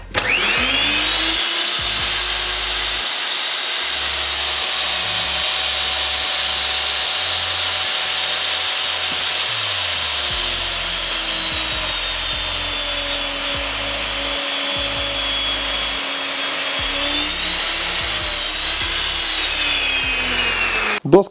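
A Ronix miter saw in a woodworking shop whines loudly and steadily as it spins up and cuts through wood for about twenty seconds, then winds down with a final knock; no talking.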